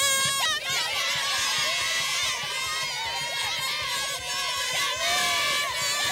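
A high school football crowd cheers and shouts in the stands, a dense, loud wash of voices and whoops with children's yells rising and falling.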